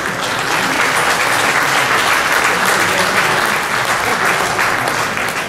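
A crowd at the French freshwater sport fishing championship results gives loud, sustained applause for a competitor, a thick unbroken wash of clapping from start to end.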